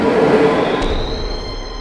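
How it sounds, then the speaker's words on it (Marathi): A train rushes fast into a station platform, a loud rumbling roar with a high metallic wheel squeal rising near the end, heard alone with no voices. "समोरून वेगाने आलेली दुसऱ्या फलाटावरची रेल्वे त्यांना दिसलीच नाही"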